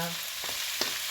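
Pork sautéing with plenty of garlic and a whole onion in a pan, a steady sizzle with a couple of brief stirring scrapes, close and alone.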